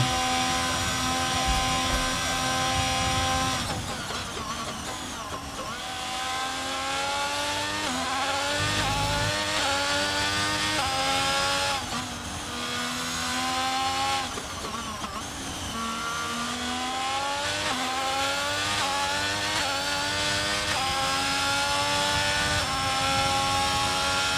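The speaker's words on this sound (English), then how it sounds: "It's the Ferrari's engine." A high-revving Ferrari racing car engine in a racing video game at the Dutch Grand Prix climbs and drops through repeated gear changes, loud and continuous, with sustained whining harmonics throughout.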